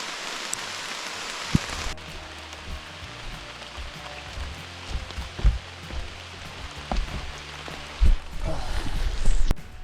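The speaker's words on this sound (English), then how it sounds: "And I'm getting rained on." Rain falls during a sun shower on the Superior Hiking Trail, a steady patter of drops on surfaces close by, with occasional louder taps and rustling bumps.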